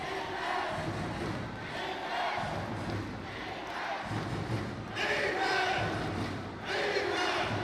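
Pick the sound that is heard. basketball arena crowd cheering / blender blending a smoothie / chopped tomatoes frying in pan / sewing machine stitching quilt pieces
basketball arena crowd cheering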